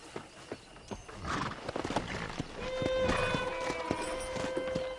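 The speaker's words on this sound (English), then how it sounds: "Let's see if we can't wrangle some horses." Horses being wrangled in the Red Dead Redemption video game, with several loud neighs and whinnies over a patter of hoofbeats that builds into a steady gallop, alone with no talk.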